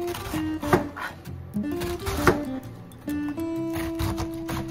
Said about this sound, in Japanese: まず最初にキャベツを千切りにしていきたいと思います。